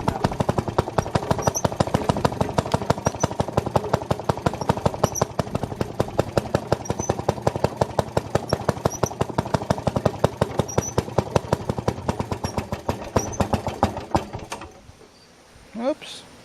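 A Maytag 90 washing machine powered by a Model 92 gasoline engine runs while washing clothes, a loud, close, rapid put-put firing steadily for about fourteen seconds before it sputters and falters near the end.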